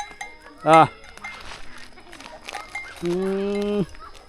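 A herd of water buffalo at a watering spot in a rural village, with a clear low moo and a longer bellowing call standing out over faint clanking cowbells and background murmur.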